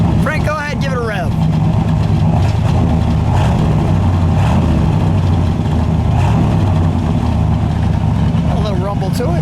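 A 1960 Edsel Ranger two-door hardtop's engine is revved in a few swells over a rumbling idle through its dual exhaust, close and loud, with short bits of talk at the start and end.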